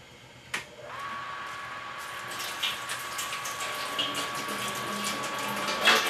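Water rushes fast through a Sabco Plate Pro plate chiller, a steady, moderately quiet gushing flow that starts with a brief clank and carries on with faint splashes and knocks.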